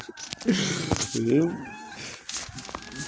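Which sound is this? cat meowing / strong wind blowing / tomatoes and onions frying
cat meowing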